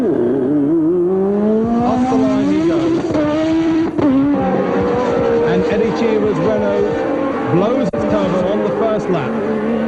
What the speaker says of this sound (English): And there is Nelson Piquet's car being push-started.